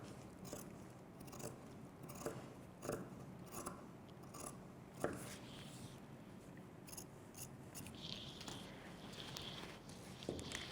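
Scissors cutting through skirt fabric, front and back layers together, a series of close, crisp snips and crunchy blade closures in an uneven rhythm with rustling between cuts, fairly quiet.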